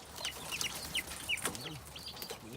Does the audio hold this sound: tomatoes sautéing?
no